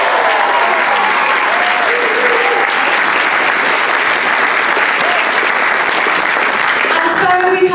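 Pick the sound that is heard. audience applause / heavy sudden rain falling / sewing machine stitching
audience applause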